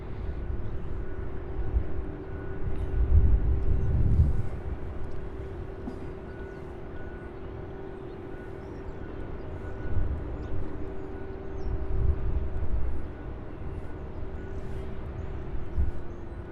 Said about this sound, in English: We've got our next UPS 2845, the 767 out of Salt Lake City, arriving here